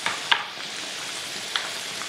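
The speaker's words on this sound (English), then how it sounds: "I'm gonna add those green peppers so that they can saute" Green peppers hit a pan of nearly cooked ground beef for a spaghetti meat sauce, giving a steady soft sizzle with a couple of sharp clicks of utensils near the start and middle.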